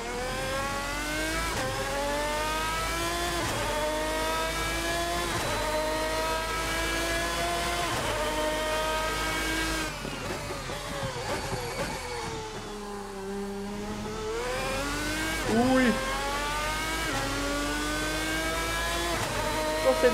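A race car from a GT mod pack in Assetto Corsa powers through a quick lap, its engine note climbing and dropping through gear changes with a steady loud drone, a brief lift mid-lap, and faint tire noise.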